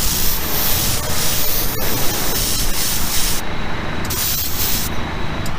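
A spray gun lays blood red paint onto a custom Volkswagen, the hiss loud and near in long continuous passes broken by two short pauses, with no talk.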